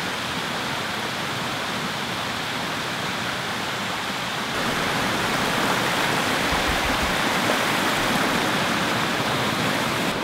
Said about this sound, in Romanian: iar râul, acest mic pârâu, care mă bucur că este alb și nu este plin de noroi